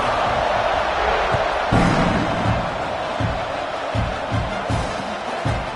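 Football stadium crowd at a college game roars steadily at kickoff, a broad continuous wash of cheering with occasional louder swells and thumps, no voice standing out.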